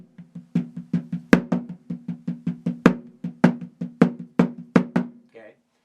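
A taiko drum plays a fast rhythm with steady lighter strikes, and louder accented hits stand out every few beats. The drum is close, and a short bit of speech follows the final strike.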